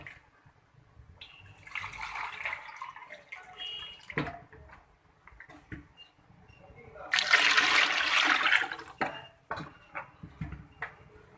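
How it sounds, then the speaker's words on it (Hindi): Water poured into a cooking pot while making chana pulao: two rushing, splashing pours, one short and a second louder one, with quieter clatter in between and no talk. "अब मैं इसमें पानी डालूँगी।"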